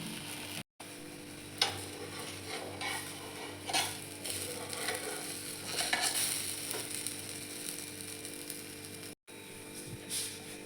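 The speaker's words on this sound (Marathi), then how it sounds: "दुसरी बाजू पण व्यवस्थित शेकून घ्यायची आहे" A wheat flour breakfast flatbread roasts on its second side in a pan, giving a faint, continuous low sizzle with a few light clinks and scrapes.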